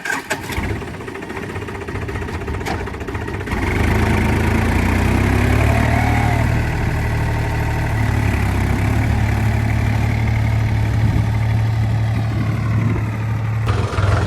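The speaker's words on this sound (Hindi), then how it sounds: "नन्हे भाई ने ट्रैक्टर फंसा दिया है" A tractor stuck in a wet field runs steadily, its low diesel drone rising as the throttle opens after a few seconds, then holding a loud, even rumble close by.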